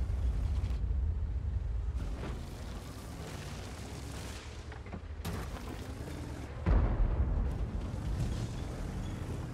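Heavy, booming tank cannon shots in a video game with deep low rumble, a few spaced blasts over a constant engine drone, loud and close.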